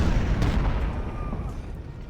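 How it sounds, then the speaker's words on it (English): Civil War cannons boom across a battlefield in the strategy game Ultimate General: Civil War at the Battle of Cold Harbor, one heavy rumbling blast early and then a dense low roll that fades out. "The artillery's opening up."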